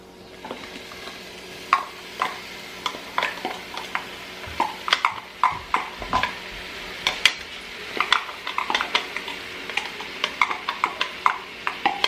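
Onions and peppers sauté in a hot pan, a steady sizzle broken by frequent clicks and scrapes of a utensil stirring against the pan, close and with no talking.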